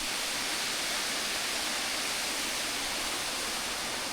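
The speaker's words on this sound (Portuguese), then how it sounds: "Acabei de chegar na Cachoeira dos Escravos." Cachoeira dos Escravos, a waterfall beside an old imperial road, roars as a steady, even rush of falling water with no break or voices over it.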